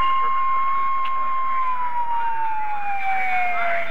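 A wailing ambulance siren sweeps steadily and slowly drops in pitch, fairly loud, with a second siren tone joining near the end over traffic rumble, in Huntsville after tornadoes in 1978.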